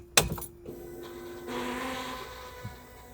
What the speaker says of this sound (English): That's our fuel pump.